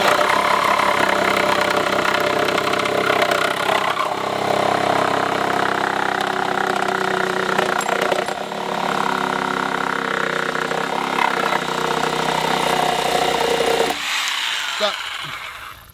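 An old corded Milwaukee Sawzall reciprocating saw cuts through a board with a loud, steady motor buzz that runs without pause for about fourteen seconds, then cuts off abruptly near the end.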